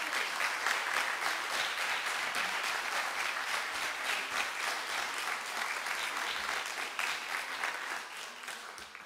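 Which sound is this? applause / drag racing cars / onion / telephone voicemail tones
applause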